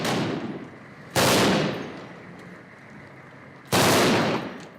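Battlefield gunfire from vehicles and foot soldiers during the battle for Mosul, with two loud, sharp blasts that each fade into a long echoing decay over a rumbling outdoor background.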